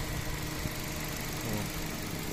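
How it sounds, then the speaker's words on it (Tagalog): A 2011 Hyundai Accent engine idles quietly and steadily, a smooth low hum with faint vibration, close by and uninterrupted, with no talking. "Napakatahimik ng makina."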